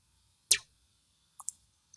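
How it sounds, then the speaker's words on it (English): A synthesized laser-style click, made very short and clicky, sounds as one sharp tick followed by a few fainter quick clicks, quiet and dry with no talking, meant for layering on a kick drum. "layering this laser sound"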